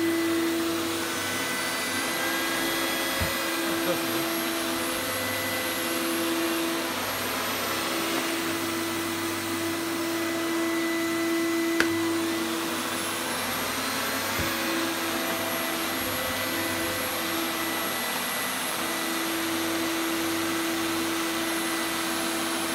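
A vintage Dr Nilco Fakir commercial upright vacuum cleaner runs steadily with a constant motor whine and whoosh, fairly quiet and even, with a faint click partway and no talking.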